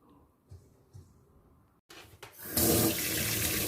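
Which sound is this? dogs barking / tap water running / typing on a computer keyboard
tap water running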